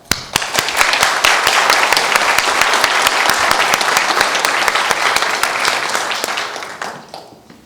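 Sustained audience applause at a lecture, loud and dense, with many hands clapping steadily before tapering off near the end.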